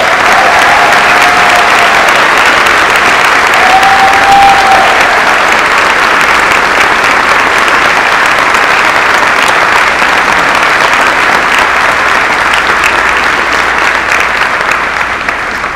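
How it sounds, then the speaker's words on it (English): At a 2019 preparatory school commencement ceremony, an audience gives a long, sustained round of applause for a teacher, dense clapping from a large crowd holding steady and loud throughout. "So can we give him a round of applause?"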